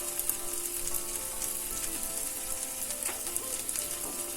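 Bread pieces with chaat masala, salt and spices sauté in a pan, giving a steady, close crackling sizzle throughout with no talk.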